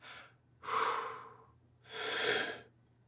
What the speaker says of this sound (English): we have to do something to actually breathe in